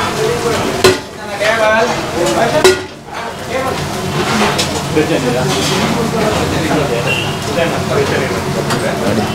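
Crab ghee roast masala cooking in a busy seafood restaurant kitchen, with continuous sizzling and metal spatula scraping and clanking against the pan, loud and close while people talk over it.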